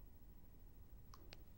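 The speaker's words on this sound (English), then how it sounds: "There you go, there's the ticking noise." A LEGO NXT brick makes a couple of brief, faint clicks while its firmware updates, two sharp ticks close together near the end against a quiet background hiss.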